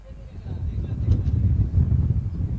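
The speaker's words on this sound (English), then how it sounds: "And clearly it is windy right now." Strong wind buffets the microphone at an outdoor cricket match in a steady low rumble that swells and gusts throughout, loud and close.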